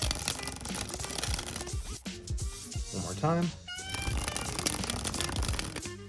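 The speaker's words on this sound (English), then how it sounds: "Here's that new dribble sound." Playing cards from a Fontaine x Braindead deck dribbled from hand to hand make a fluttering, papery patter, with a person speaking briefly partway through.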